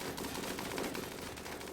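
Sustained hail of automatic gunfire in RimWorld, a dense, continuous rattle of rapid shots held at steady volume for the full stretch, with no voices.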